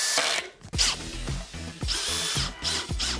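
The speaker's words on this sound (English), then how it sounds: "we're gonna set the clutch on this really low, drive it in, and the clutch on the drill will stop" A power drill with its clutch set low drives a screw into stainless steel cable railing: loud, close whirring bursts that stop and restart several times in quick succession, with no talking.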